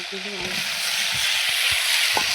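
A rohu fish head frying in hot oil gives a steady bright sizzle, with a few brief voice fragments and stirring knocks over it.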